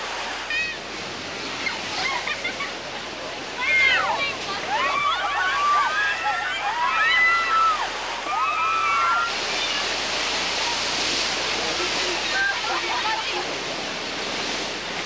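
Rushing water of the Bigfoot Rapids river raft ride at Knott's Berry Farm, a continuous loud roar and splashing filling the whole clip, with voices and shrieks carrying over it.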